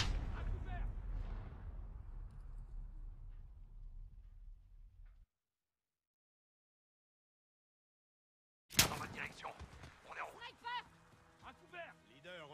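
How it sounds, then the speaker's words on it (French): Gunfire on a highway battle in Call of Duty Modern Warfare: rumbling blasts that fade into silence, then sharp cracks and clattering shots return under urgent voices giving orders. "Les coups de feu venaient de l'autoroute."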